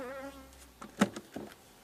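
Honeybees buzzing around a hive during a summer honey harvest as frames are shaken out, a faint steady drone with a few soft knocks and handling noises partway through.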